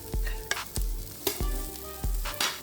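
Onions fry in oil in a pan, sizzling loudly and close up, while a spoon strikes and scrapes the pan in about five rhythmic stirring strokes.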